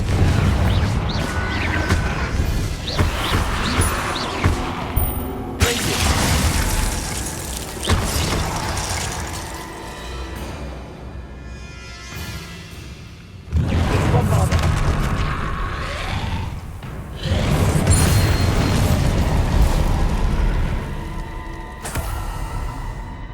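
Spell blasts in the video game Hogwarts Legacy, loud booming explosions and crashing impacts in a dense, continuous mix with swelling surges, over game music and effects.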